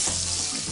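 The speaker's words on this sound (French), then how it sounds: "Une poêle bien chaude, faire cuire rapidement, un aller-retour" Scallops searing fast in a very hot pan give a steady, close, loud sizzle that holds unbroken through the whole short moment, with no voices.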